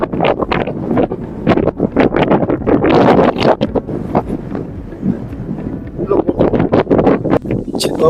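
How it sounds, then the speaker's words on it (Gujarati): Strong monsoon wind gusts buffet the microphone at the seaside, loud rumbling bursts rising and falling in irregular waves throughout. "જે પવન આવે છે"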